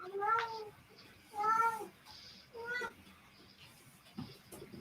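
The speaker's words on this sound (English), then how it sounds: "you got an upset kitty" An upset cat lets out three drawn-out, wavering meows, close and clear, spaced about a second apart, followed by a brief softer rustle.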